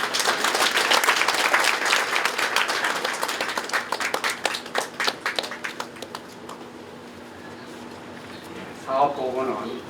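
A congregation claps warmly to welcome a speaker at a thanksgiving service opening a memorial hall for Pastor Ju Gi-cheol. The applause starts dense and full, then thins into scattered claps and fades over several seconds, with a brief stir of sound at the end.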